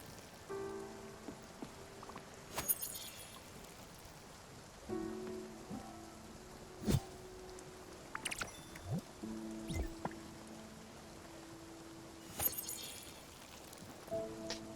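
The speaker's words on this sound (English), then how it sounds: "I don't know why I watered it. There's literally rain." Rain falling in the video game Spiritfarer, a soft, quiet patter of drops with occasional sharper splashes and faint tonal game sounds underneath.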